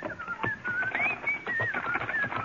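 A man whistles a cheerful, wavering melody as a sound effect in an old-time frontier radio drama, close and clear, with soft thumps and clatter of a wagon being loaded underneath.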